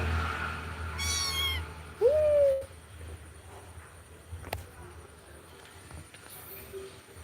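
Two short meows come from a pet kitten, one of a neighbour cat's litter: a high, thin cry followed by a lower one. The room around them is quiet, with only faint background noise.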